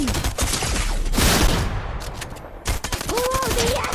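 Bursts of SMG gunfire in a shooter video game, loud rapid volleys breaking out repeatedly amid in-game action and effects across the moment.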